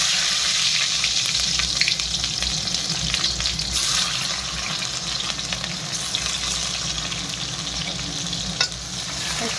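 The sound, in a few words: onions frying in oil with cumin and bay leaves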